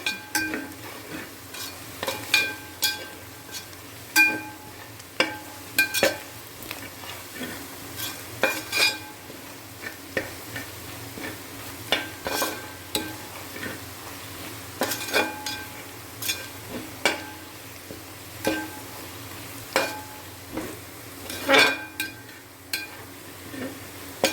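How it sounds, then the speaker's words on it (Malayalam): Masala for Thrissur-style beef frying in a pan, with a ladle scraping and clinking against the metal in frequent irregular strokes over a constant quiet sizzle. "മസാലകളൊക്കെ നന്നായിട്ട് മൂക്കണം നന്നായിട്ട് ഇളക്കി കൊടുത്തോണ്ടിരിക്കണം കേട്ടോ കരിയാൻ പാടില്ല"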